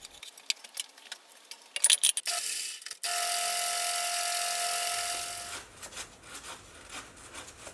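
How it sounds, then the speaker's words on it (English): A lathe runs with kerosene flushing its gearbox: after a few clicks and knocks, a steady whining mechanical drone holds for about two seconds, then fades back to scattered clatter. "I'll now pour in some kerosene to clean any remaining oil or grit in the gearbox, and I'll run the lathe for a minute or so."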